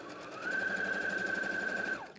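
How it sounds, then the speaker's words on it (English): A sewing machine runs one short straight line of stitching on fabric, a steady close whirring hum that starts and stops cleanly with no talk over it. "Again, one little line of stitching."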